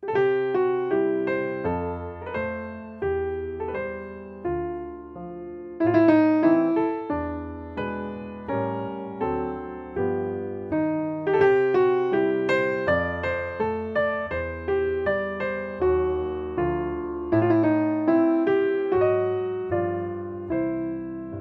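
Solo piano plays a piece in an extended arrangement, with steady struck chords and melody phrases that rise and fall in regular swells, played alone and clear.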